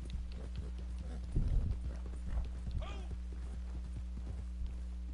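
Horse hooves clip-clop in Red Dead Redemption 2, a quick cluster of hoofbeats in the middle over a steady low game hum, with a voice talking briefly alongside.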